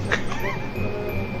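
A person briefly imitates a dog, giving a quick yip-like bark and a whiny, rising yelp, close to the microphone over a low background hum.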